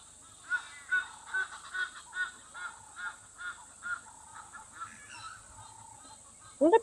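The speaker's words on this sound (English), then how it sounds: "I think Egyptian geese with that constant, they're so loud all the time" Egyptian geese honking loudly outdoors in Africa, a rhythmic series of about a dozen harsh, evenly spaced honks, close and prominent, ending in a louder burst of calls.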